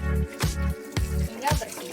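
Hands rinsed under running tap water during a handwashing demonstration, with a steady flow that pulses in short bursts as the hands move through the stream.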